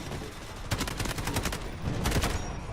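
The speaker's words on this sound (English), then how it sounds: "Artillery barrage ready." An artillery barrage in an online first-person shooter game: a rapid burst of loud gunfire-like blasts and cracks arrives in clustered volleys over a constant battle din, with no voices.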